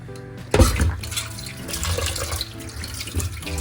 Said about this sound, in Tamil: அதாவது தண்ணியில் அலசிக்கணும்.